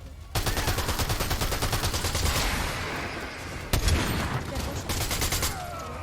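Sustained machine-gun fire crackles in a video game, fast repeated shots forming a continuous loud barrage broken by a single heavy impact, with a person speaking underneath.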